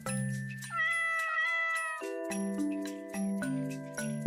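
A cartoonish cat meows repeatedly in the video game While True: Learn(), bright tonal mews that slide in pitch over a soft chiming backdrop, sounding close and clean with no talking.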